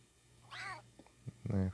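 A cat meows in the Clock Tower video game, a short rising-falling cry near the start followed by a louder, harmonic meow at the end, separated by soft thuds over a low steady hum.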